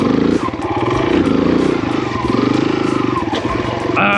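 A Kawasaki KLX140RF dirt bike engine revs hard in repeated throttle snaps during wheelie attempts on a trail, close and loud with a pulsing, buzzy exhaust note that rises and drops.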